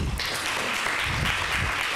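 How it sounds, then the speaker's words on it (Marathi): An audience at an inspirational speech claps together in a sustained round of applause, a dense crackle of many hands heard at moderate volume for the whole moment. "या टाळ्या अमिताभ बच्चनजींना पडल्यात मला माहिती आहे."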